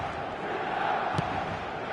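A football crowd fills the San Siro stadium with a steady, dense roar and murmur, a continuous wide wash of distant voices with a brief louder swell near the middle.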